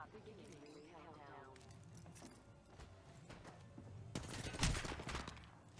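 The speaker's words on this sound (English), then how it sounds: "I'm taking shots. I've got some hits on me." Rapid gunfire bursts in a hectic Apex Legends firefight, a heavier volley swelling near the end over constant game noise, with voices talking throughout.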